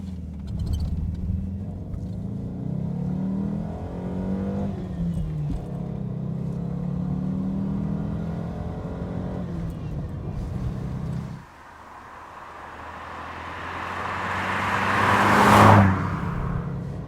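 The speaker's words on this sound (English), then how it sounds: "Well, it will rev all the way up to 6, but it feels that 5 is the more comfortable limit for it." A Lancia Gamma Berlina's engine revs up while driving, a rising and falling drone from inside the car that drops off sharply, then climbs again to a louder peak with a whooshing rush near the end.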